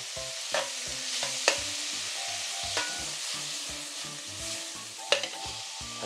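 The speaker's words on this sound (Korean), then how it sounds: "여기다가 저는 간장을 살짝 넣을 거예요." Soy sauce hits a hot frying pan with sea cucumber in it and sets off a steady, loud sizzle, while a utensil stirs and taps against the pan every second or so.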